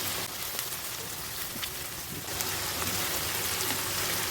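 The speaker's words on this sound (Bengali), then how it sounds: "পেঁয়াজের কালারটা বাদামি কালার করে ভালো করে ভেজে নিতে হবে" Onions fry in hot oil for beef biryani with a steady, dense hiss and crackle that grows slightly louder partway through, with no talking.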